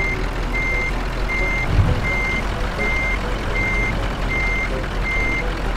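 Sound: truck reversing beeps in video game Euro Truck Simulator 2

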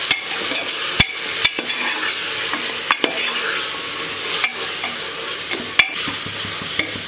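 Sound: sautéing ground coriander and mint paste in a pan

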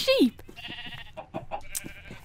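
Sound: sheep bleating in Minecraft video game

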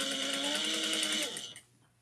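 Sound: sewing machine topstitching a wristlet

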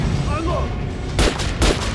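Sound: gunshots at training dummy in Metro Last Light video game

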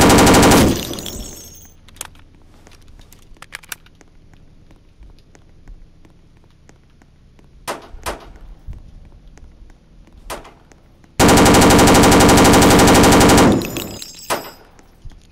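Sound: gunfire in Roblox video game

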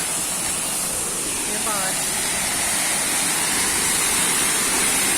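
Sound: waterfall at Ayder plateau, Rize

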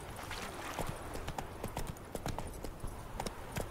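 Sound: horse hooves while riding in the video game The Witcher 3

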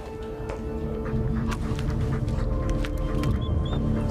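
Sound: tracking dog

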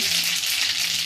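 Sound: mustard seed and cumin tempering crackling in hot oil

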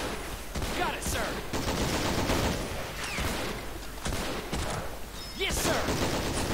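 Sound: gunfire in video game Men of War: Assault Squad

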